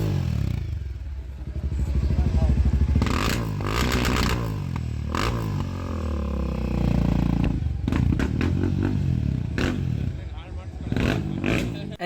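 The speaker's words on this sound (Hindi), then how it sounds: "तो गाइस हिमालयन 452 में रेड रूस्टर एग्जॉस्ट ऐसा है।" A Royal Enfield Himalayan 452 fitted with a Red Rooster aftermarket exhaust revs at a motorcycle show. Loud engine rumble rises and falls in repeated throttle blips, with someone talking over it and crowd clatter around.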